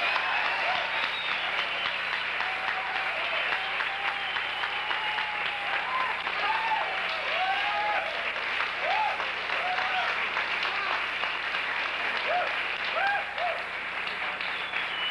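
An audience at an evening follies show gives a congratulatory round of applause, dense and steady clapping from a large crowd that stays loud and even for the whole stretch.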